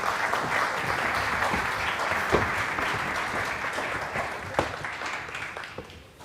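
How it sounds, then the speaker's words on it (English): A conference audience at South Summit 2016 bursts into sustained applause, a dense, steady wash of clapping from a large crowd that gradually tapers off toward the end. "Please, big applause."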